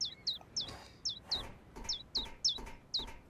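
Hungry little birds chirping in the video game A New Beginning: a rapid series of about ten high, thin chirps in a steady rhythm, close and clear over a quiet background.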